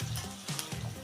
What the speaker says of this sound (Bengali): পেঁয়াজগুলো ভালোভাবে ভেজে নেব